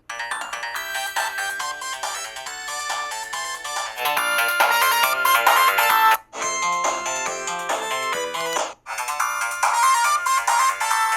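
Bright chiptune-style Sonic the Hedgehog 2 music plays through a handheld device's small, tinny speaker, continuous with two brief dropouts near the end.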